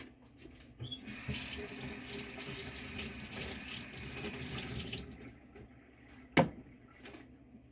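Water runs steadily from a kitchen tap into a sink for about five seconds while something is rinsed, then stops, followed by a couple of sharp knocks and clatters nearby.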